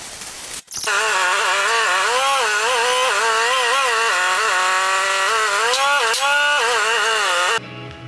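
Gouges being ground into a ripper chainsaw chain with a flat carbon, one loud, close, continuous whining grind lasting several seconds, its pitch wavering slightly under load before cutting off.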